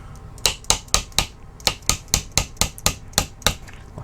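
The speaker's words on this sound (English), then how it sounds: "So a little punch and a small hammer." A small hammer taps a punch to drive out tight pins from a TEC 9 receiver during a field strip: about a dozen sharp metallic taps in a steady rhythm, close and clear, with no talk.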